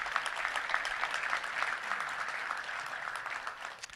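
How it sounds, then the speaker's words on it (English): A Touchdown Club luncheon audience in Little Rock gives a round of applause for honored guests, steady crowd clapping filling the room at moderate distance, fairly even throughout and fading slightly near the end. "Please stand and let's give them a round of applause"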